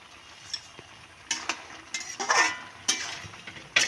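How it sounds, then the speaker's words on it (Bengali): A spoon scrapes and stirs a thick pumpkin and fish roe curry with softened potato in a pan, giving several short, close scraping strokes in an irregular rhythm with a soft sizzle between them. "একটু নেড়ে নেব।"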